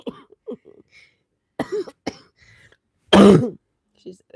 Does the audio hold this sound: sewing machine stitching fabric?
no